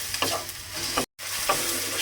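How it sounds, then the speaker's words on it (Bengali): Garlic paste frying in a pan sizzles under repeated scraping stirs of a spoon, close and lively, with a brief silent break midway. "রসুনটা দিয়ে আমি একটু ভাজা ভাজা মতো করে নিয়েছি"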